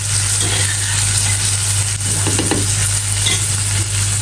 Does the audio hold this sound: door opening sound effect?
no